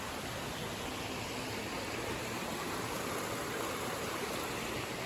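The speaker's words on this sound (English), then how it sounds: "So that's the river that's running through the gorge." A river runs through the gorge at Killiecrankie in Scotland, a steady, even rush of flowing water heard at a distance with no other sounds.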